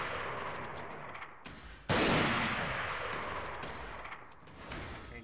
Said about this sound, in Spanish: Vamos a darle unos tiros con este